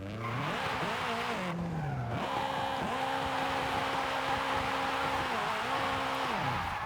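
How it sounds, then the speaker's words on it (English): A small rally-style car in Forza Horizon 5 revs hard, its engine note rising and falling through repeated gear changes and throttle lifts, with tires skidding on the surface. "It's like a little rally car."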